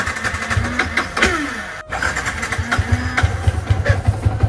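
A motorcycle engine is started and catches, running with a rough, uneven mid-pitched idle and a brief dip partway through, heard up close with no talking.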